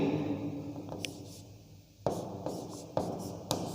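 Chalk scratching and tapping on a classroom blackboard, faint and close, with short strokes and several sharp taps as letters are written, no voices over it.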